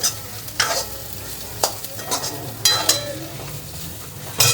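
Sambar ingredients frying in a pan: a loud, close sizzle broken by several sharp scrapes and clinks of a spatula against the pan, with no voice.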